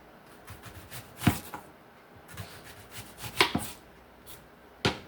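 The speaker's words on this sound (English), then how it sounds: "And I'm just rough chopping it, guys." A knife rough-chops vegetables for a corn salad on a board, sounding as a few sharp, uneven cuts between softer scraping and rubbing sounds, close by and with no talking.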